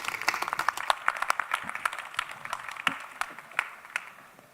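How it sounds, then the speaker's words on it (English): Conference audience at a tech expo clapping for a panel of industry speakers, a scattered round of individual claps that starts lively and gradually thins out, heard from within the room. "Please give them all a big round of applause."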